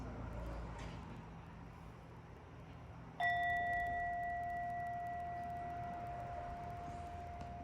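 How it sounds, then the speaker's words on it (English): A meditation bell in a wellness-program session is struck once, giving a clear bright tone that rings out and slowly fades over several seconds against quiet room ambience. "When I ring the bell, we're going to begin."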